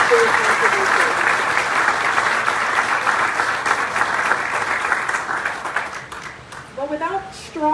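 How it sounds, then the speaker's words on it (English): Audience at a school district groundbreaking ceremony giving sustained applause, a dense loud wash of clapping that thins toward the end as a voice begins speaking. "Let's give them all a round of applause"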